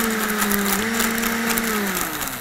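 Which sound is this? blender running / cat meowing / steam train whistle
blender running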